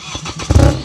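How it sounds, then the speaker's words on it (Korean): BMW 118d with its stock diesel engine being started, a short rumble that swells into a loud, close low-pitched exhaust burst in the second half, with no talk. "128D의 순정 디젤 배기음"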